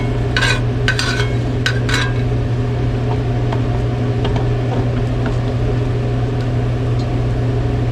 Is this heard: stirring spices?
yes